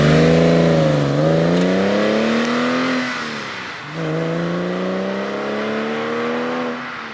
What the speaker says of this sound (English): Third gear, high speed acceleration.